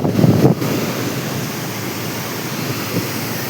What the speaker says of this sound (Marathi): त्या मोठ्या धबधब्याच्याच खाली तिथं दुसरा धबधबा आहे